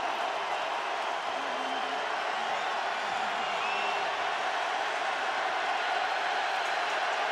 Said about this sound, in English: their San Francisco crowd going crazy